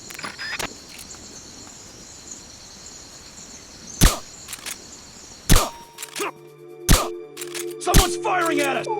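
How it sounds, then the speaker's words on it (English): Sharp cracking gunshots from the video game Metal Gear Solid: Peace Walker ring out in a few scattered bursts over a droning background, ending with clattering effects and a steady hum. "Someone's firing at us!"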